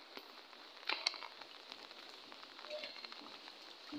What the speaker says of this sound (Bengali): লাগাতার বৃষ্টি হয়েই যাচ্ছে।